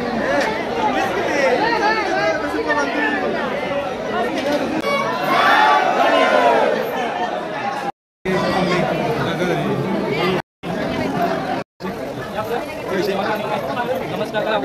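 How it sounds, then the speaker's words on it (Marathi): A crowded temple fills with dense, continuous crowd chatter, many overlapping voices close around, loud and unbroken apart from a few brief dropouts. "आत गेलो तर इतकी गर्दी होती ना की चालताही येत नव्हतं"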